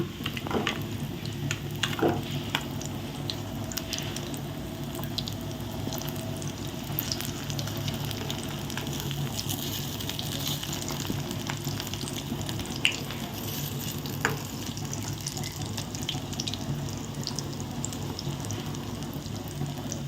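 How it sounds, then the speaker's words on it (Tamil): Puffed rice cutlets frying in oil in a pan after being flipped, a continuous dense sizzle and bubbling crackle held close and steady throughout, with occasional small pops and a faint tick or two. "இந்த மாதிரி திருப்பி போட்டாச்சு மற்ற பக்கமும் நல்லா வறுக்கட்டும்"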